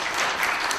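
Audience applause at a Korean book-launch talk event, a steady dense crowd clapping with no gaps across the short stretch, fairly loud and close.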